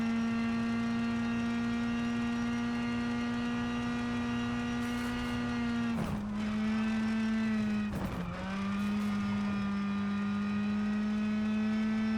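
Rally car in the WRC game driven flat out: a steady, sustained engine note held high with two brief dips near the end, close and alone.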